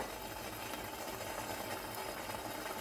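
A kitchen mixer grinder whirs steadily as it purées cooked apple and carrot, a continuous, even motor drone filling the short stretch with no talking.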